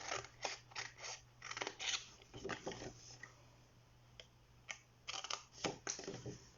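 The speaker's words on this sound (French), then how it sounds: "Je vais recouper un petit peu ici." Scissors snip through card while a box is being trimmed and shaped, a run of close, crisp cuts in uneven bursts with short pauses between them.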